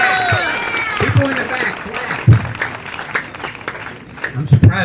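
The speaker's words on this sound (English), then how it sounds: "Come on, everybody clap for John." An audience at a comedy show in a brewery in Indian River applauds for a comedian, with bursts of clapping mixed under a loud voice talking into a microphone.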